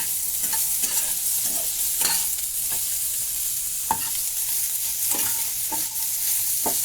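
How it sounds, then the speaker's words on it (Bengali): Paneer frying in a pan is stirred with a spatula, its steady sizzle broken by regular scraping strokes, close and clear, with no talking. "একটু হালকা নেড়ে চেড়ে আমি সবজিটা দিয়ে দেবো"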